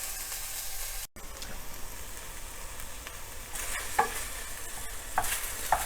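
Cubes of dried beef browning in a hot pot for beef vegetable soup give a steady close sizzle with scattered stirring scrapes and a brief gap early on, no talk.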